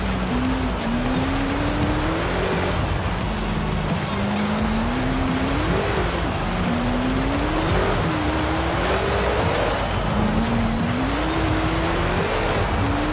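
A 1200-horsepower off-road DeLorean in a driving video game, its engine droning continuously and rising and falling in pitch as it accelerates, turns and slides, with tire noise throughout.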